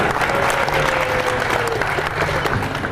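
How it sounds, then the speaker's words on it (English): Audience applause for performers at a guitar press preview event, steady and dense throughout, with a faint whistle-like tone drifting through the crowd noise. "About one more round of applause for Chris Martin and Molly Tuttle."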